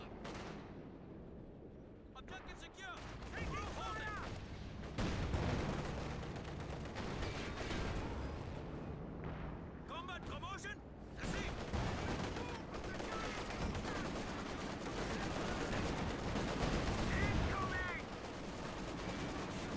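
Rapid gunfire strafing in a 1v1 strategy video game match, dense bursts running almost continuously at fairly steady loudness, mixed with other game effects and caster talk throughout.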